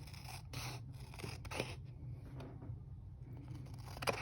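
Scissors snipping through paper or craft material in a quiet indoor space, with a few soft separate cuts and a sharper snip near the end, close by and fairly faint, no talking.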